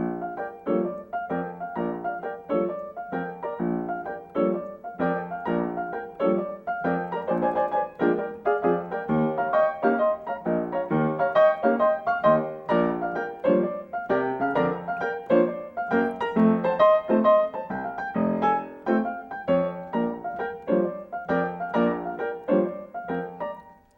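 Solo piano plays a busy, syncopated tune with off-beat accents and a Latin "Spanish tinge" lilt, steady and fairly loud throughout, with no voices.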